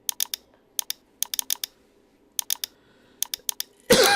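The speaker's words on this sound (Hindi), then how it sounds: "लगातार क्लिक की आपको आवाज़ जो है सुनाई देगी वीडियो में" A computer auto clicker fires rapid, crisp clicks in short clustered bursts separated by brief pauses, close and fairly loud over a faint background hum, ending in a sudden burst of broadband noise.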